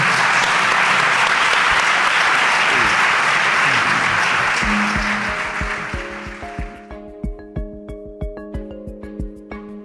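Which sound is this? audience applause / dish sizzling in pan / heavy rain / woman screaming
audience applause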